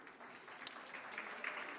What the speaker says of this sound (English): Thanks for that round of applause.